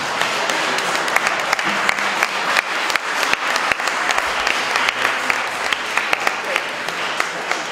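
Sustained audience applause at a lecture-style literary festival event, dense even clapping from a large seated crowd that stays loud and continuous from start to finish.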